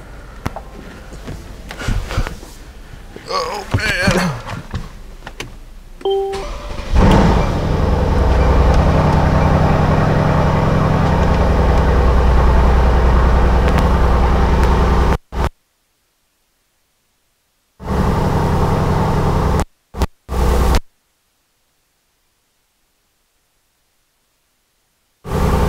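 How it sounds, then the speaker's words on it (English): A 2016 Mercedes C63 engine fires up after a quiet stretch and settles into a loud, steady, deep idle rumble, then the sound abruptly drops out in several silent gaps. "I'll start it right up so you can hear it."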